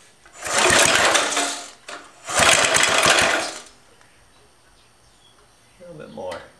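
A small gasoline tiller engine, its choke propped open with a screwdriver, catches in two loud, rough, rattling bursts of about a second each, then drops to quiet with a faint voice near the end.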